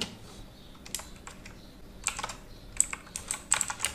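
Someone types on a computer keyboard up close, with sparse single clicks and then quicker bursts of crisp keystrokes and a few louder key hits toward the end, with no speech.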